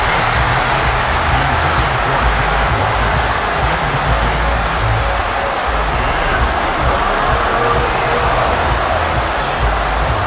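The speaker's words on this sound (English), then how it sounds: "This crowd turning up the decibel level." Roaring football stadium crowd at a Monday Night Football game between the Seahawks and Giants, a dense, steady wall of loud noise with a deep rumble, unbroken for the whole stretch.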